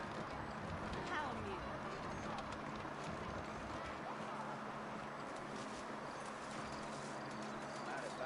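Horses trotting in the Red Dead Redemption video game, a quiet run of steady hoof clip-clops under faint ambient game sound and some background voice.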